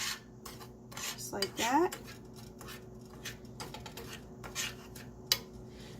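Pecans being stirred with cinnamon and chili powder in a bowl, a series of rough scraping and rubbing strokes with a light clink of utensil, while a person talks briefly.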